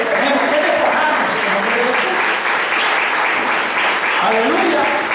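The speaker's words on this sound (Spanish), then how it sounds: "Gracias, aplauso al Padre." A church congregation applauds at a sermon, steady dense clapping sustained throughout with murmuring voices mixed in underneath.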